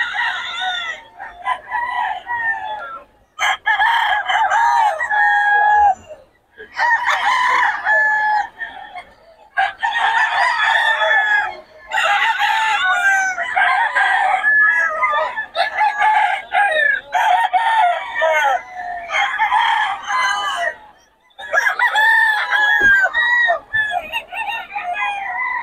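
Several roosters at a market in Bocaue crow loudly and repeatedly, their long drawn-out calls overlapping in a continuous chorus with brief gaps, mixed with occasional clucking.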